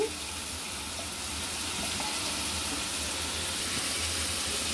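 Pabda fish going into a frying pan for a vegetable fry, giving a steady, close, moderately loud sizzle of hot oil that holds evenly throughout, with no talking.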